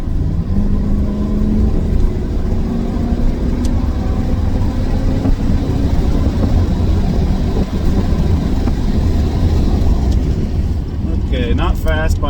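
1991 Chevrolet Camaro RS with 55k miles pulling away under light throttle, the engine note rising steadily and heard from inside the car, with a brief voice at the end.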